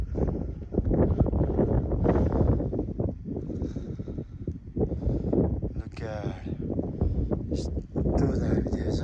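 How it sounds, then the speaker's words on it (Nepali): Wind on a mountain trail near the South Annapurna glacier: low, rumbling gusts buffeting the microphone, rising and falling, with a voice briefly heard over it. "तर हावा चाहिँ चलेछ"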